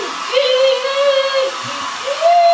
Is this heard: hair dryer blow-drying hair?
yes